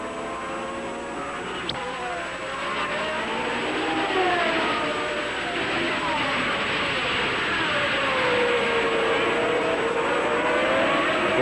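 Formula 1 race cars at the 1980 British Grand Prix, including Derek Daly's number 4 car, whine past in overlapping high engine tones that rise and fall as they pass, heard at a distance over steady crowd and track noise.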